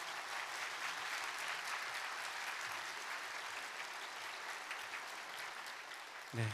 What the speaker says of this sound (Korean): 박수해 주시기 바라겠습니다